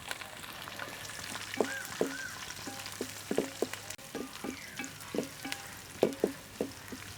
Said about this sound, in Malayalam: നമുക്ക് ഇതേപോലെ വട്ടത്തിലരിഞ്ഞ പച്ചമുളക് കൂടി ഇട്ട് കൊടുക്കാം